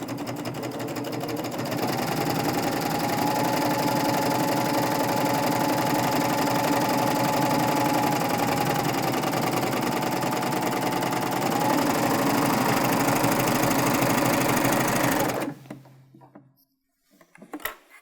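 A sewing machine stitches fabric continuously at a steady, rapid hum for about fifteen seconds, then stops abruptly, leaving a few soft handling clicks.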